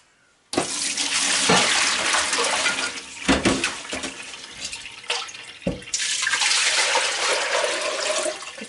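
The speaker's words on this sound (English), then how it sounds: "I'm going to pour this whey out of the pot" Liquid whey from sheep's-milk Gouda pours steadily from one pot into another, a loud continuous splashing stream with a few brief interruptions, no one talking.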